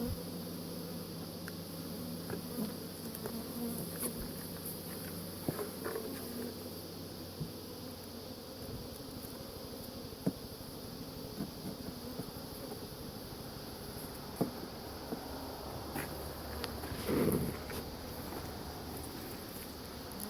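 Honeybees buzz steadily at an opened hive box during a queen check, a dense continuous drone filling the whole stretch with a few louder passes close by.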